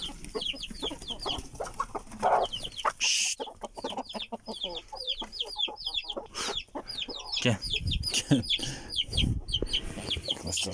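Hens cluck busily throughout, with an Aseel rooster's calls mixed in, close by, alongside scattered farmyard rustling and brief thumps.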